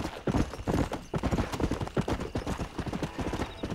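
Horse hooves clip-clop in a rapid, steady rhythm in the Red Dead Redemption video game, a close, busy series of thuds that carries on throughout without talk.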